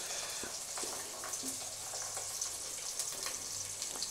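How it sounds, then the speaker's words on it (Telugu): Eggs frying lightly in hot oil for egg biryani, a steady soft crackle and sizzle with scattered small pops throughout, fairly quiet and with no voices. "అయితే ఆయిల్లో ఫ్రై చేసినప్పుడు లైట్గా ఫ్రై చేయాలి."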